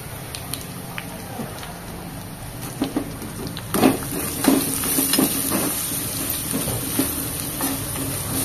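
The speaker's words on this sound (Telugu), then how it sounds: "ఇందులో మనం కొద్దిగా క్యారెట్ వేసుకొని వేయించుకోవాలి." Carrots sizzle and fry in a pan for chicken shawarma while being stirred, a steady close crackle with scraping stir strokes growing busier partway through.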